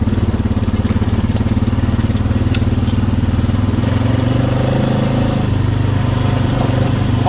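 Engine of a 2016 Honda Rancher IRS ATV on 28-inch tires riding a muddy trail in two-wheel drive, a loud, steady droning motor note that holds throughout with slight shifts in pitch.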